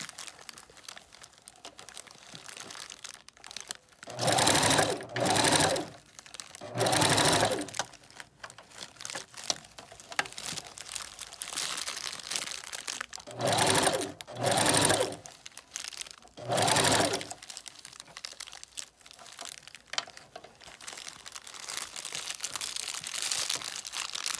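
A sewing machine stitching a wig runs in two groups of three short bursts, separated by pauses filled with faint rustling and handling noise.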